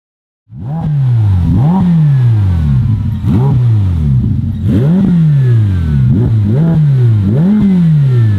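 A Ferrari F8 Tributo fitted with a Fabspeed mid pipe and muffler-delete exhaust revs hard over and over, each loud close blip rising then falling back, the rhythmic roar carrying without any speech.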